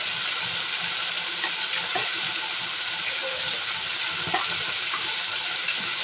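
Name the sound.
spices with chili, turmeric, coriander and cumin sautéing in a pan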